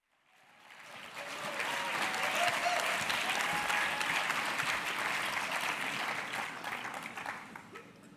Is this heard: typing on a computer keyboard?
no